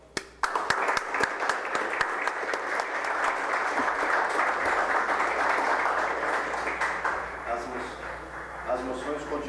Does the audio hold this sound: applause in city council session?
yes